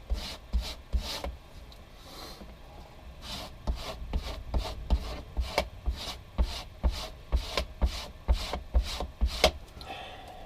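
A razor blade scrapes sharpening compound off a leather strop in quick repeated strokes, each a short, rasping swipe. A brief pause breaks up the strokes, which then come in a fairly regular rhythm, close and clear, without speech.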